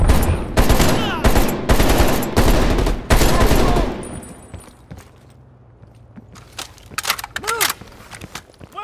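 Heavy machine gun fire in the Call of Duty: Black Ops Cold War campaign rattles in loud sustained bursts for several seconds, then fades into quieter footsteps and scattered battle noise, with voices shouting over the action.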